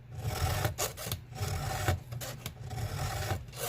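A hand file rasps back and forth on a chainsaw chain, guided by a Granberg G106B bar-mounted filing jig: steady, close scraping strokes in a regular rhythm with no talk.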